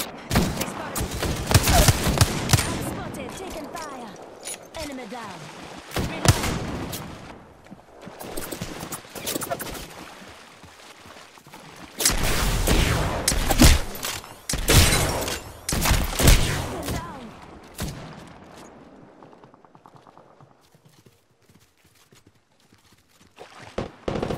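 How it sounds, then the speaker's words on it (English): Bursts of rapid gunfire in the Apex Legends video game, loud and repeated in several clusters with pauses between them, mixed with game effects and a speaking voice. "Opening fire."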